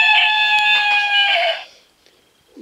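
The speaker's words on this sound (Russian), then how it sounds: "Хватит кукарякать." A rooster crows loudly and close, one sustained, steady cock-a-doodle-doo with nothing else behind it, then near silence.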